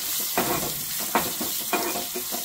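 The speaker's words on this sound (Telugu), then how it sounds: "ఇప్పుడు ఒక్కసారి మనం పోపుని కలిపేసుకుందాం" Steady sizzling of a spice tempering with garlic in a pan, with a few brief stirring scrapes, close and moderately loud, no voices.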